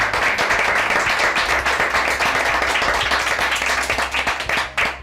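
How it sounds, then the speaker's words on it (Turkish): Vigorous studio audience clapping on a Turkish television show, dense and loud from start to finish, tapering slightly just before the end. "Önceki onlar için koca bir alkış istiyorum hepinizden."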